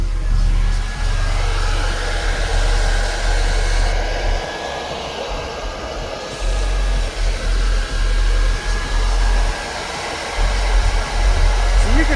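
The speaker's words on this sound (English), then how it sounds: "Keep the fans on and keep it cool." Cooling fans blowing inside a car fitted with eight 15-inch subwoofers: a steady, loud whooshing airflow over a low engine-like rumble that continues throughout, with slight dips midway.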